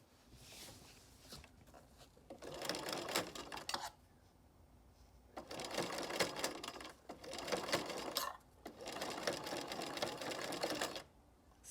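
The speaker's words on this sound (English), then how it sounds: "we're going to sew in behind the zipper" Sewing machine stitching behind the zipper of a ruffled farmhouse-style pillow cover, running in three steady whirring bursts separated by short pauses, close and fairly quiet.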